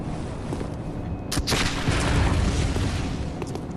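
Enemy gunfire in Bloodborne: a few muffled booming shots, one sharper blast standing out partway through, over a continuous dense rumble of ambient noise.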